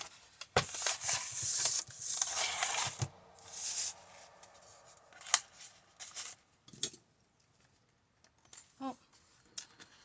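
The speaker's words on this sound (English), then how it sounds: "I think it's dried enough that I can go ahead and trim that off." Scissors trim excess tie back fabric from a handmade junk journal cover, making soft snipping and rustling strokes that come in quick bursts and then thin out to sparse, faint clicks.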